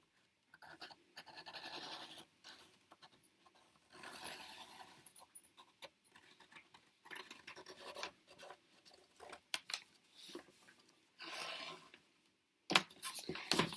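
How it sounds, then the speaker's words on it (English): A pencil scratches as it traces around a paper tag onto scrapbooking paper, faint, close, intermittent scratchy strokes in short bursts separated by quiet gaps, no talking. "And I'm going to trace the outline of it."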